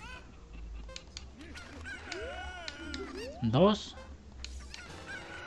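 Cucco chickens squawk and honk amid game sound effects and music in a randomized Zelda: Ocarina of Time playthrough, with one loud squawk standing out and a voice speaking briefly.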